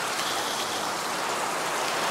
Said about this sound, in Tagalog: inabutan na nga po tayo ng ulan sa kasamaang palad